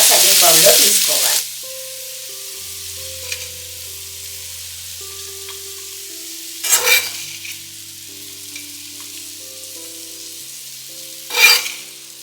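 Bobbarlu (cowpeas) fry in a pan, with a strong sizzling burst at the start settling into a low steady hiss, broken by two brief louder scraping stirs of the spatula.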